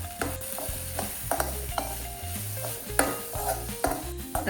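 A spoon stirs spices and garam masala as they sauté in a pan for a beef stew. There is steady close scraping and clinking over a soft sizzle, and no voices.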